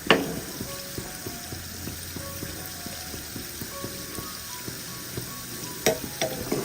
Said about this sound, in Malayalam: ബാക്കിയിരിക്കുന്നതും ഇതുപോലെ തന്നെ നമുക്ക് ഫ്രൈ ചെയ്തെടുക്കാം.